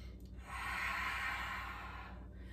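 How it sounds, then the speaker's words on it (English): Slow deep breath during a gentle yoga stretch, one long airy exhale swelling and fading over a couple of seconds, close and fairly quiet. "Take 2 more deep breaths"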